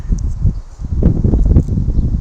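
Gusty wind buffets the microphone in a steady low rumble, with faint rustling over it.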